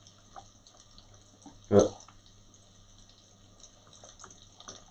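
Water splashes into a cooking pot for a tagine stock in one short, loud burst, with a quiet background before and after.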